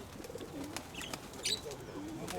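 Pigeons at an outdoor fair coo softly, in low murmuring calls, while crowd noise and distant chatter fill the background.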